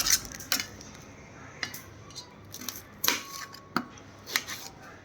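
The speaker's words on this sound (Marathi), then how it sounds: "बटाटे कापून घ्यायचं काम चालू आहे आता आपलं." A knife cuts through potatoes for a fasting-day khichdi and chips, giving sharp, irregular close-up chops and clicks spread across the moment with pauses between strokes, no voices.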